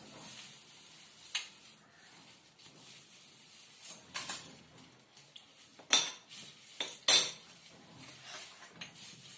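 Spoon clinking against a bowl while chaat is mixed with salt and chili powder, flameless cooking: sparse, soft scrapes with a few sharper clinks near the end, fairly quiet overall.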